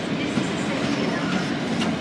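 A train passes at Manchester Piccadilly station with a loud, continuous rumble and rolling wheel noise close by, steady throughout, with faint voices underneath.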